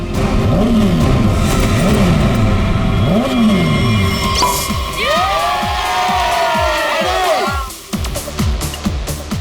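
Motorbikes race past at an international bike championship event, engines roaring and swooping by one after another, loud and close, while a crowd cheers and shouts continuously underneath.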